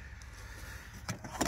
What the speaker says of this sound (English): Electric windows at the front with an auto function for this driver's one